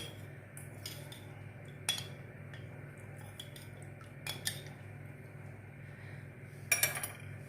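Custard being stirred in a pot with a metal spoon for a fruit trifle, giving a few scattered clinks and scrapes of utensil against metal over a steady low background hum, fairly quiet and without speech.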